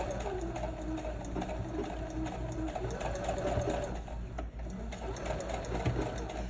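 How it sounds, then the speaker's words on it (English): A sewing machine runs steadily while stitching a blind hem with a blind hem presser foot, its fast, even needle hum continuous and close throughout, with no talking over it. "I'm just watching that needle and making sure when it goes on the inside stroke that it's catching that little fold"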